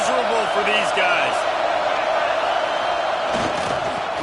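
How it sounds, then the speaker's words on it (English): A football stadium crowd roars in a loud, steady wash of noise during a game, with a commentator talking over it and a brief swell of shouting near the end. "This crowd going to try to make life miserable for these guys."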